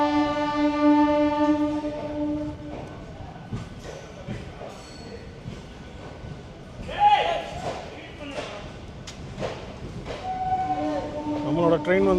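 A MEMU special train running from Coimbatore to Dindigul sounds a long, loud horn blast, then rolls on with clattering and rumbling, a second horn note rising near the end while someone talks over it.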